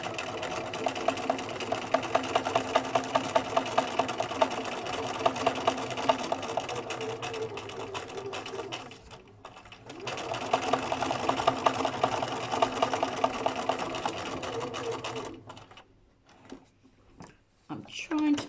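Sewing machine stitching through paper, running in rapid rhythmic bursts of needle clatter that stop briefly near the middle and again toward the end, close and clear.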